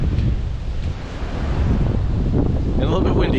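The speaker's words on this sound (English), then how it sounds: "The breeze definitely picked up." Wind gusting across an exposed rocky stretch of the Appalachian Trail at Bake Oven Knob, a steady broadband roar buffeting the microphone throughout, rising slightly toward the end.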